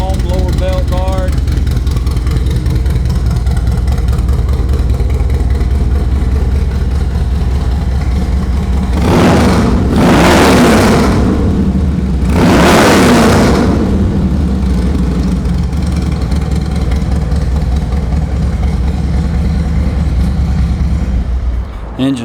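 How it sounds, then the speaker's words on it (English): A Harley-Davidson Dyna Wide Glide FXDWG motorcycle engine runs at a steady idle throughout, with two strong revving bursts near the middle, heard up close and loud. "Engine sounds good, no smoke or any of that business."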